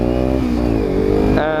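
Kawasaki Ninja 300 motorcycle fitted with an Akrapovic slip-on exhaust, a loud, close, steady engine drone that rises slightly in pitch near the end, heard alone.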